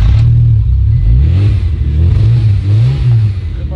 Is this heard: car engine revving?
yes